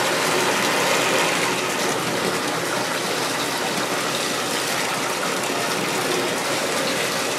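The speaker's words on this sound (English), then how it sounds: "Let me turn the water on." Tap water gushes steadily into a bathtub, a loud, continuous broadband rush with no breaks and no voices.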